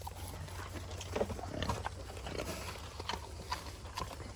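Pigs on a farm make soft grunts and snuffles amid shuffling hoof and footstep noises, close by and fairly quiet, scattered irregularly over a few seconds.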